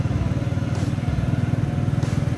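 A motorcycle engine drones loudly and close with a steady rumbling throb throughout, no voices over it.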